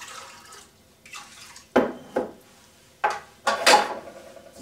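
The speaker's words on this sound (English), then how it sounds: "and I wash the rice." Rice being washed in a pot, with water sloshing and several distinct splashing swishes at irregular intervals, close and fairly quiet with no talking.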